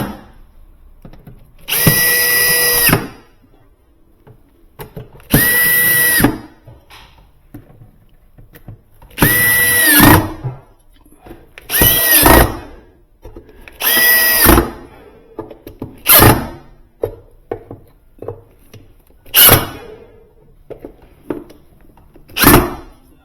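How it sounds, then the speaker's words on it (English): A power drill drives bolts into a Northland condensing unit during a rebuild, loud and close. Repeated whirring bursts of a second or two each are separated by short pauses and clanks, and the later bursts get shorter and sharper. "So let's get all these bolts here lined up, screwed in"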